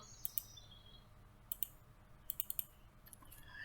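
Computer mouse and keyboard clicks while working in ControlLogix software come as sharp, faint, isolated taps in small clusters and pairs over a quiet background, with no talking.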